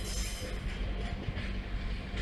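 A Class 142 Pacer diesel train pulls out of Manchester Piccadilly station, giving a steady, fairly loud low rumble and wheel noise that holds throughout with no talking.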